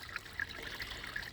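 Gentle trickle of water running in from a feed pipe at the bottom of a filtered pond or tank, a faint, steady dribble with no voices.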